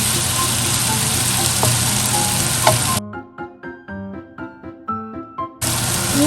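Homemade wide rice noodles with chicken and soaked squid sizzle loudly in a hot wok, the steady frying broken midway by a rhythmic run of metallic spatula clanks before the sizzle resumes.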